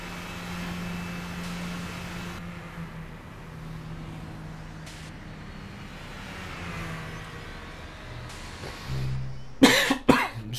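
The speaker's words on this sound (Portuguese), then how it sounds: "Desculpa pela tosse" A few harsh, close coughs from a player burst out near the end, over a low, steady hum of racing game car engine sound that runs throughout.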